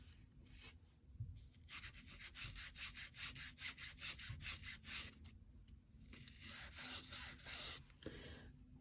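A brush whisking tailor's chalk off fabric in a quick run of short, rhythmic scratchy strokes, fairly quiet and close, then a few looser brushing passes.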